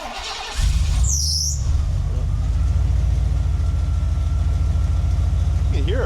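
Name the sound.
Bronco engine idling with muffler pushed on, no clamps or tailpipe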